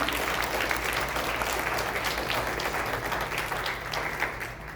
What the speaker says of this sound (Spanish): Démosle fuerte aplauso a nuestros hijos en el culto